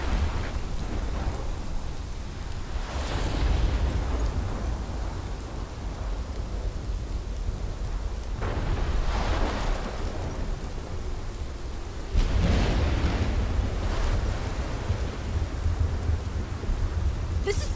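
Heavy rain pours steadily during a thunderstorm in the video game Life is Strange, with several loud rolling thunder crashes breaking through the constant downpour.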